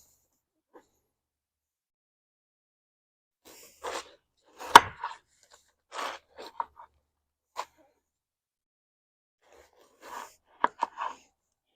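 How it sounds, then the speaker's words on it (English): Knife slicing down through a watermelon being prepared for jelly, heard as a few sparse, close cuts and crunchy chops with quiet gaps between them. "Real easy way to cut watermelon in."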